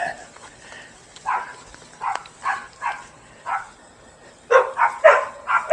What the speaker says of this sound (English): Neighbor's dogs are out.